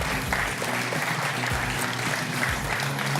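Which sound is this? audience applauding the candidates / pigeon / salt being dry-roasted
audience applauding the candidates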